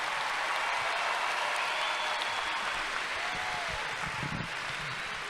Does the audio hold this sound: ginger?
no